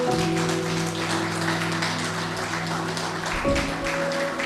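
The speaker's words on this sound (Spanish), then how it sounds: "Le damos un aplauso al buen Señor." A congregation at a Catholic preaching service applauds in a sustained clapping wash over held musical tones, briefly dipping near the end.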